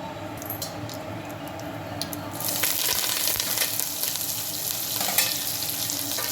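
Dried red chillies and mustard seeds frying in hot oil, a steady close sizzle that swells louder and crackles more sharply partway through, with faint stirring.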